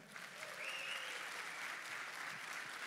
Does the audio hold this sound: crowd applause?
yes